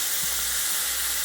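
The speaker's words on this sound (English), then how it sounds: "Let me get the vent fan going." A kitchen vent fan runs with a steady, broad hiss and airy whoosh. Frying or boiling on the stove may blend into the noise. It stays constant and moderately loud, with no speech.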